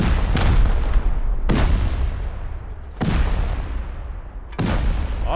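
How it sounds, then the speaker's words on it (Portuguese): Explosions in the video game Rust: four heavy booms, roughly every second and a half, each with a sharp onset and a long rumbling decay, loud and close with no talking. "tirar a monetização do meu vídeo por causa dessas explosões aí"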